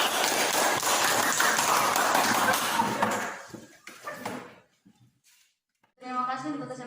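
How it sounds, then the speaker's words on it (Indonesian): Classroom applause for a presenting student group, dense clapping filling the first few seconds before thinning into scattered claps and quiet, then a voice begins speaking. "tepuk tangan buat kelompok 1"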